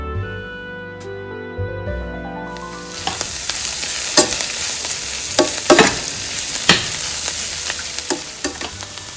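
Papaya and broad beans stir-frying in a hot pan, a steady bright sizzle that starts suddenly and is punctuated by clinks and scrapes of a spoon stirring the vegetables.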